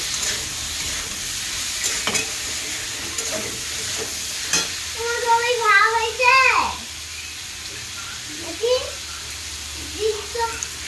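Food frying in a pan with turmeric while being stirred before lentils go in, a steady sizzle with utensil knocks, and a voice talking in the middle and near the end.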